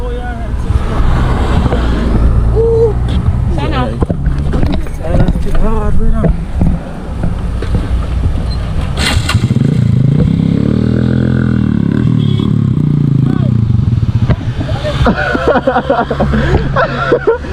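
A troublesome motorcycle at a Jamaican bike gathering, its engine revving and droning loudly with rising and falling pitch, close by, while people talk and shout over it outdoors.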